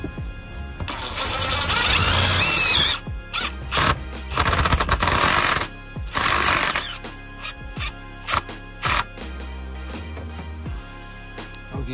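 A power driver spins a socket to cut a hole through a metal bracket while mounting a solar panel on a minivan camper, giving loud whirring bursts at first, then shorter intermittent whirs and clicks.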